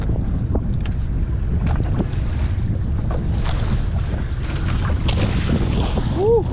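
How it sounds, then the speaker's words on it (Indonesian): Strong wind buffets the microphone in a steady low roar while fishing beside floating fish cages, with splashing water and faint distant voices underneath. "susah ini anginnya keras dah"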